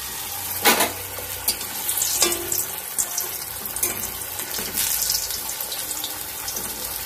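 Pea kachuri deep-frying in hot oil in a kadai, a loud, dense, continuous bubbling sizzle with occasional sharper splashes and crackles throughout, no voices.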